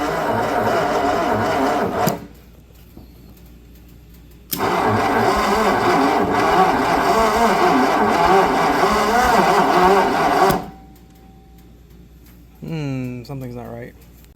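A 1964 Ford F100 pickup engine is cranked in two long grinding bursts separated by a short pause. It turns over without firing, and a voice speaks briefly at the end.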